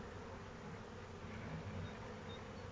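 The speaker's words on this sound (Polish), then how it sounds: "jest kupa młodej pszczoły" A dense, steady hum of many honeybees buzzing together in an open hive, a continuous drone without pauses.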